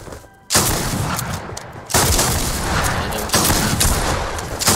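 Dense gunfire in the Fortnite video game, with loud sustained bursts of rapid shots that come in three waves separated by brief gaps, close and dominant.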